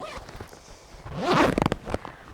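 A jacket's pit zip is run open on a women's Mountain Equipment Manaslu jacket: one quick, close rasping zip pull followed by several short ticking bursts from the slider, heard alone with no talking.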